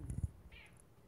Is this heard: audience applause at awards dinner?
no